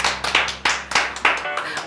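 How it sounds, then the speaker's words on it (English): An English class gives a short round of applause, a few hands clapping up close in loose, uneven strikes that stop abruptly near the end. "Round of applause."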